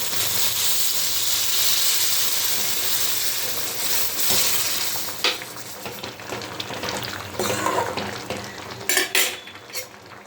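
Cumin seeds and dried red chilies tempering in hot mustard oil, then poured into a chickpea and pea dal: a steady sizzle and hiss first, fading into clinks of a metal ladle and vessel being stirred and tapped.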